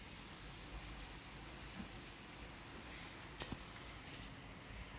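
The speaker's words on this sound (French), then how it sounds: "J'adore entendre le bruit de la pluie. Écoutez." Steady soft patter of rain, a constant quiet hiss with no voices, and a couple of brief louder drips near the end.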